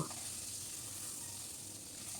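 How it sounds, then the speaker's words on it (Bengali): Poa bhola fish frying in oil gives a steady, faint, even sizzle throughout with no talking. "দুটো পাশ একটু মাঝারি করে ভেজে নিয়ে তুলে নেব"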